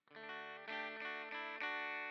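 Electric guitar played through an old Fender amp model in Amplitube, giving a bright, clean, chiming tone with a few sustained strummed chords ringing out over about two seconds.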